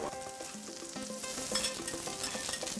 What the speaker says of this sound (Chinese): 煎的时候刮铲一定用力，就是贴着那个铁板，用力的铲上来，它才不会粘锅。